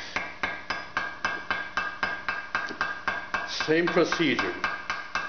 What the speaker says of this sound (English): We go with light taps. We don't hammer it. We just tappy tap tap